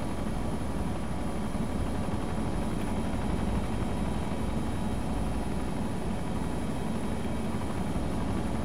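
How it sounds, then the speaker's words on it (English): A helicopter in a realistic first-person war game simulator roars steadily, a loud, dense rotor and engine drone filling the whole stretch with no break and no voices. "Are you in this chopper with it?"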